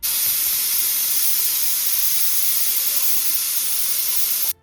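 A pressure cooker making pachai milagai sambar releases steam in a loud, sustained hiss that holds steady for several seconds before cutting off abruptly, with no voices.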